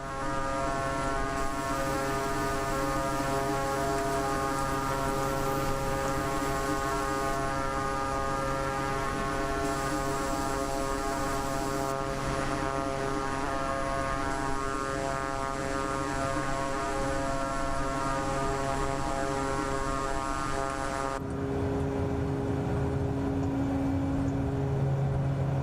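Steady, continuous drone of a Beechcraft King Air C90 GTX turboprop cruising in flight in Microsoft Flight Simulator 2024, with layered propeller harmonics and a slight tonal shift near the end, no voices.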